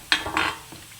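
Termite mushrooms stir-fried with oyster sauce and basil in a pan over high heat, with a quick scrape and clank of a spatula against the pan over a light sizzle.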